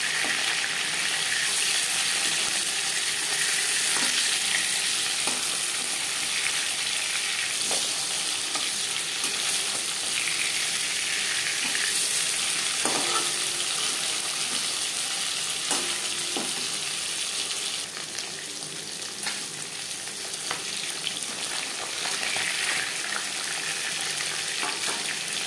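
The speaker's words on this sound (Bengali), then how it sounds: "প্রথম ব্যাচে মাছ ভাজা হয়ে গেছে, একটা পাত্রে উঠিয়ে নেব।" Pieces of silver carp fish fry in hot oil, giving a steady dense sizzle and crackle that runs without pause for about twenty-five seconds, with occasional stirring clicks and no voices.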